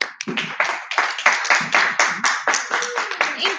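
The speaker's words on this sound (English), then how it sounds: "So please clap your hands as we welcoming gesture to Meri Tumanyan." An audience claps at a poetry reading to welcome the reader, a steady run of sharp, close hand claps with a small crowd, loud and rhythmic for the whole stretch.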